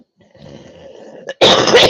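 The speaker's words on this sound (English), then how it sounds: "okay, I needed a cough." A person with a wheeze hums and breathes softly, then lets out a single sudden harsh cough near the microphone that is much louder than the preceding sounds.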